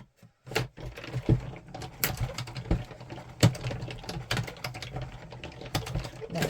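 Paper being cut for an envelope card with a cutting machine or trimmer, heard as a close run of sharp clicks and taps with a low steady hum beneath.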